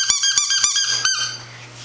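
Squeaky dog toy squeezed several times in quick succession, sharp high squeals close up and loud, the last one drawn out, alone without talk.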